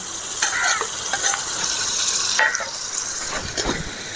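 Tomatoes are stirred and fried in hot oil, a soft sizzle running underneath as a spoon scrapes and pushes them around the pan in a few close, uneven strokes, with no talking.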